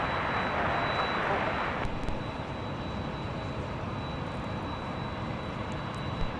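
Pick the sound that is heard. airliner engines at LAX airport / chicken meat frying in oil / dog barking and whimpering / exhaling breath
airliner engines at LAX airport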